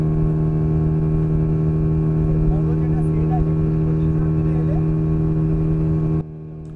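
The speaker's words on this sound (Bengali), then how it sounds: "মাইথনে এলে এই স্পিড বোট রাইডটা মাস্ট রেকমেন্ডেড।" A speedboat cruising on Maithon Dam's reservoir gives a steady, loud engine drone that holds evenly and then drops away sharply near the end, with faint wind and water noise around it.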